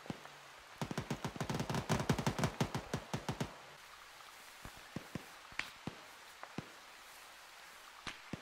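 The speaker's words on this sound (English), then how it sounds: "Hearing gunshots close northwest," Video game gunfire: rapid bursts rattle out in a dense volley, then thin out into scattered, sharper single shots at irregular intervals, some nearby, some more distant.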